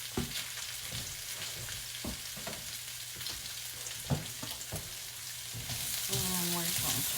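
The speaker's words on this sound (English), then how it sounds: "And I'm going to toss our peppers and onions in." Red and green peppers with onions frying in a pan, a steady sizzle punctuated by clacks and scrapes of stirring, growing louder and hissier near the end with a brief tonal clatter.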